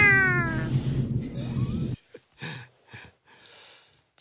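A cat gives a long, drawn-out meow that bends in pitch, followed after a pause by several shorter, quieter meows and breathy sounds, heard close and alone.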